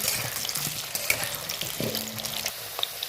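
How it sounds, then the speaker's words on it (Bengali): Potatoes frying in hot oil for mutton jhol, stirred in the pan: a quiet, continuous sizzle with a few light scraping and clinking touches. "আমি আলুটা হালকা করে ভেজে নিচ্ছি"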